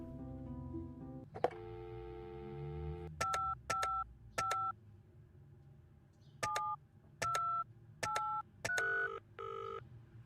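A phone in a detective video game dials the police, giving a quick series of short, clear keypad tones in an even rhythm after a brief ringing tone and a click.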